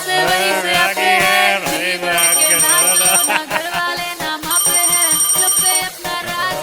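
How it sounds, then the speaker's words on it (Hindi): A mobile phone rings loud and close for an incoming call, its melodic electronic tune looping with rhythmic beats and high tones, playing alone without talk. "मेरे पापा का फोन आ गया।"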